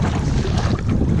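Strong wind buffets the microphone beside a lake near a boat launch, a dense, steady rumbling roar with no other sounds or voices.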